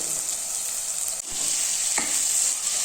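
Onions and tomatoes fry in a pan with a loud, continuous hiss, joined by a couple of soft scrapes as a spoon stirs the mixture.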